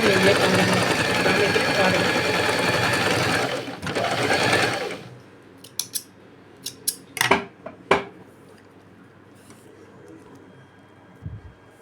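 A sewing machine stitches the drawstring casing of a chudidar pant in a loud continuous whir for about five seconds, then stops, followed by scattered clicks and handling noises of the fabric.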